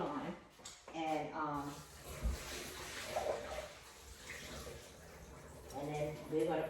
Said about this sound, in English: I am going to take the water off of my potatoes